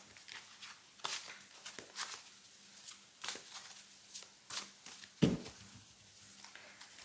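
Tarot cards handled and shuffled on a table, a series of soft, irregular riffles, slides and taps, quiet and close, with one sharper knock partway through.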